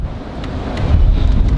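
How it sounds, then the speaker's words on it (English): Strong gale-force wind roars and buffets the microphone in the dark, a steady low rumbling rush with gusty swells, alone with no voices. "you can tell it's windy."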